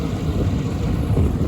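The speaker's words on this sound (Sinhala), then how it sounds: "250 Suzuki එන්ජින් එක." A speed boat powered by a 250 Suzuki outboard engine runs steadily in the Maldives, its low continuous rumble mixed with wind buffeting the microphone and water noise, no voices.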